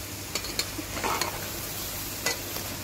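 Soya chunks fry in soybean oil while being stirred in a pan, giving a steady sizzle broken by a few sharp scraping stirs, close and fairly loud with no talking.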